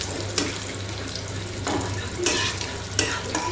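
Panch phoron and dried red chillies sizzling in hot oil as the base for a mango and tengra fish curry, a steady close crackle and hiss broken by a few sharper spatters and utensil taps, with no voices.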